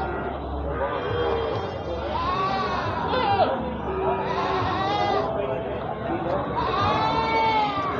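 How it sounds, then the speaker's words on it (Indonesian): Jawa Randu goats bleat repeatedly at a busy livestock market in Kebumen. Several wavering calls rise over crowd chatter and people talking nearby. "Dapat kambing seperti ini."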